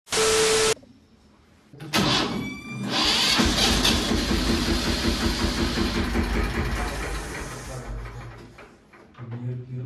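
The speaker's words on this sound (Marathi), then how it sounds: "चला आता जातो आणि जरा ट्रॅक्टर बाहेर काढ" A tractor being brought out starts after a brief beep and settles into a loud, close, rhythmic chugging run that holds for several seconds before easing down.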